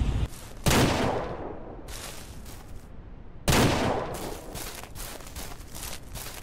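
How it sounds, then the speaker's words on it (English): Hunting rifle shots in the farming game Ranch Simulator, two sharp loud reports about three seconds apart, each followed by a rolling outdoor echo and quieter tail. "Is that two shots?"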